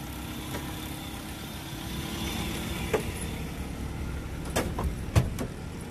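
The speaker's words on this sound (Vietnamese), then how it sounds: "Nên tiếng máy nghe rất thì thầm" A 2005 Suzuki Vitara four-wheel-drive engine idles quietly, a low steady hum close by with a few faint clicks and knocks around it.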